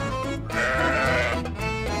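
A sheep bleats close by, one long wavering cry that dips briefly and resumes, loud and clear with no talk over it.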